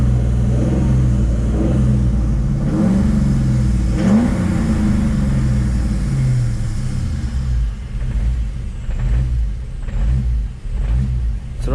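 A built Ford Mustang 5.0 V8 rumbles loudly while driving, its low engine drone rising and falling with a few revs and shifts, close and continuous with no talking.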